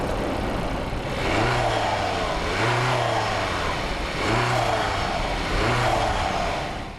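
A 2016 Audi A3 Sportback e-tron hybrid with a 1.4-litre turbocharged four-cylinder drives steadily, its engine note rising and falling in gentle swells over a constant road and wind rush heard from inside the car.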